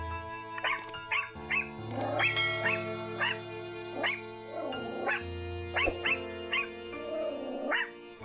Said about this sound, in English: It kept on barking for its life and sending signal for attention